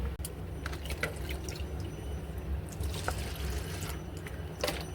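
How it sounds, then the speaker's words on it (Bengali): Rice boiling in a pot on a home kitchen stove, a steady low bubbling rumble with faint watery gurgles and a few brief drips, continuous and close with no talking. "ভাতটা ফুটতে লেগে গেছে।"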